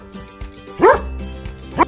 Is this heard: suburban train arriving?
no